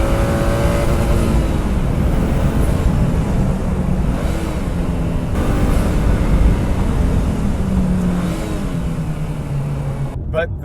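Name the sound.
2015 Subaru WRX engine during heel-toe downshifting on track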